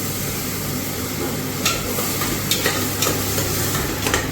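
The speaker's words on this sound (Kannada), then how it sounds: "ರುಬ್ಬಿಕೊಂಡಿರೋ ಮಸಾಲವನ್ನು ಈಗ ಹಾಕ್ತಾಯಿದ್ವಿ" Ground masala fries in a pan for a half-chicken biryani with a steady hiss, a few spoon scrapes and knocks cutting through, while a kitchen exhaust fan drones underneath.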